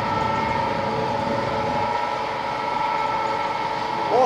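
Excited alternator rigged as a water turbine, turned by a 7.5 kW electric motor at 1500 rpm, gives a steady machine hum with sustained tonal whine, loud and continuous, with a brief rise near the end.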